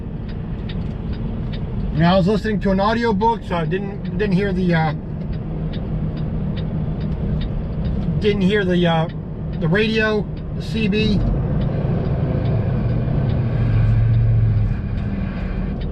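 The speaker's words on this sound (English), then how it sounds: "And we got a backup here, traffic." Road traffic heard from inside a flatbed truck stopped in a backup, a steady low rumble of engines and vehicles running throughout, with someone talking over it in bursts.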